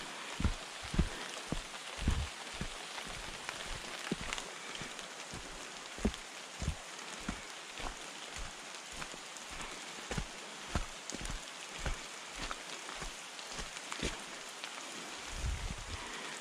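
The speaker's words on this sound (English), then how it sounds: "Rain's picked up a bit." Rain falls on thick New Zealand bush canopy as a steady broadband hiss, with heavier drops knocking irregularly and close throughout.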